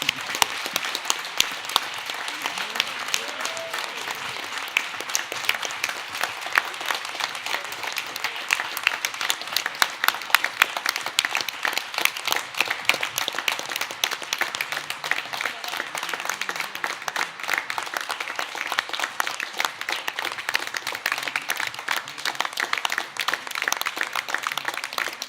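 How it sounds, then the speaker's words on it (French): Sustained audience applause in a hall during an award ceremony, a long, even roar of many clapping hands at moderate loudness with no let-up across the whole stretch. "j'aimerais bien qu'on lui fasse un tonnerre d'applaudissements"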